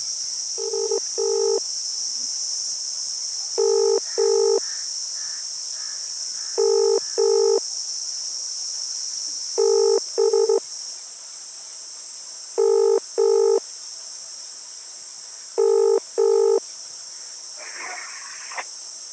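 Phone ringback while calling a revenue official, six evenly spaced double-burst rings about three seconds apart over a steady background hiss, with a short rustle right at the end.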